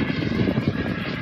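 A remote-control miniature airplane flies overhead with a steady, buzzing propeller-engine drone that wavers slightly as it moves. It is moderately loud and fairly close, with no talk.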